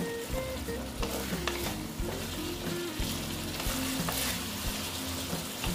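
Ginger fries and gets stirred in a hot pan, a loud, close sizzle with crackling. Frequent scrapes and knocks of a spatula break up a rumbling low hum, with no speech.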